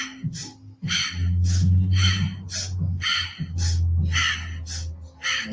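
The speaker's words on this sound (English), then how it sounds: "Nice, powerful little sniffs, creating that warmth." Powerful little sniffing breaths in a prenatal yoga class come in quick, sharp bursts, about nine in a steady rhythm, close and clear over a low, continuous hum.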